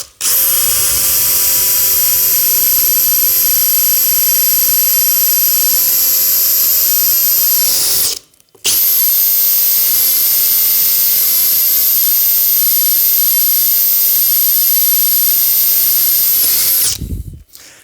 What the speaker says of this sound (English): we'll go ahead and drill our last 2 holes here